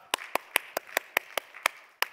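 A church congregation claps in a slow, steady rhythm, about ten sharp, distinct claps spaced evenly, close and crisp with quiet between them.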